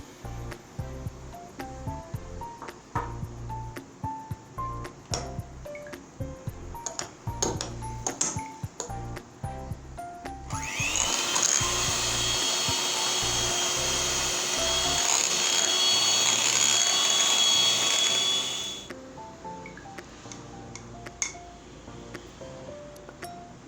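An electric beater whirs steadily through a custard powder mixture for about eight seconds, a loud continuous motor whine that starts and stops abruptly, framed by quieter kitchen clinks and shuffling.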